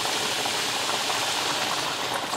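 A pot of water boils hard over a strong flame, giving a dense, steady hiss and bubbling that holds at an even level from start to finish, close and fairly loud, with no voices.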